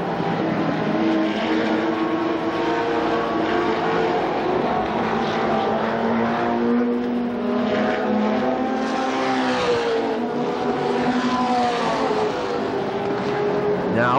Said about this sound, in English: Russell pulls right on the back bumper of Kenny Tweedy